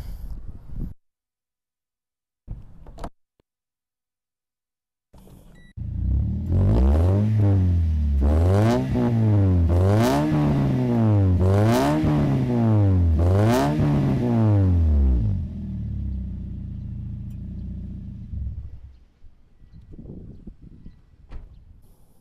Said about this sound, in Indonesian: Yuk kita tes knalpotnya ya.